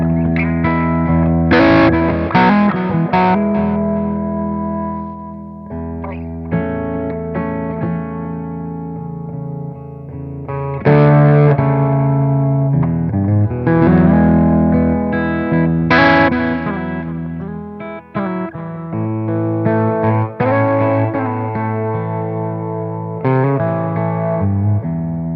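Electric guitar played through a Metropoulos Superplex amp in a studio, loud distorted chords and riffs with effects and reverb, phrases starting and stopping over about twenty-five seconds.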